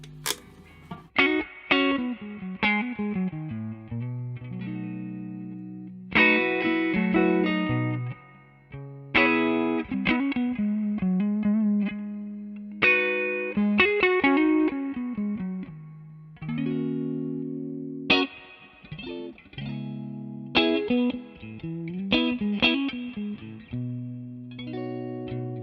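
Clean electric guitar through a Mesa Boogie Lonestar amp's clean channel with plenty of reverb plays a melodic line of picked notes and chords, each ringing out with a lingering tail, close and clear with no talk.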